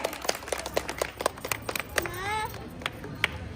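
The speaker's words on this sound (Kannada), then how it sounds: "ಚಪ್ಪಾಳೆ ಕೊಡ್ಬೇಕು" Hands clap in a series of sharp, evenly spaced claps during a children's game at a family learning festival, with a brief voice or whistle-like sound partway through.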